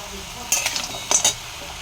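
Spiced flour being stirred and fried in a pan with salt, turmeric, jaggery and sugar drops: two short bursts of a spoon scraping and clinking against the metal pan over a faint sizzle, fairly quiet and close.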